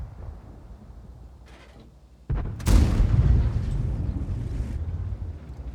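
A Lansen C tank cannon blind-fires in World of Tanks: a single loud, booming shot with a sharp onset, followed by a sustained rumbling roar. Quieter game ambience comes before it.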